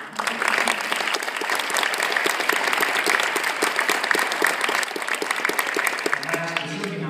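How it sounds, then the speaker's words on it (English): Audience applause at a Hawaii Senate recognition ceremony for the invasive species program, steady dense clapping filling the chamber for about seven seconds, with a voice starting to talk at the end. "Please applaud for Rachel."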